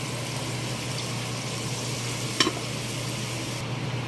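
Milkfish simmers in coconut milk with chili in a pan, giving a steady close bubbling sizzle with a brief splash of added water partway through.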